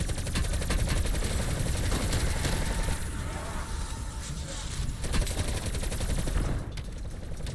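Rapid gunfire from enemies in Call of Duty Cold War Zombies, a dense continuous barrage of shots and bursts sustained throughout, loud and close, layered with game noise.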